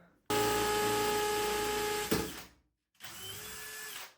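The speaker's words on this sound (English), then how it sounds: "First time that I'm drilling into this wall" A power drill whines steadily for about two seconds as it bores into a wall, stops, then runs again briefly; close and fairly loud.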